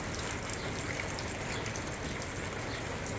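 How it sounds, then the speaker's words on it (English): Light misting rain falling outside on a farm in June, a soft steady hiss heard alone without voices. "I looked out the window and saw that the rain was coming down."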